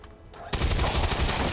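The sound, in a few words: gunshot in the XCOM 2 video game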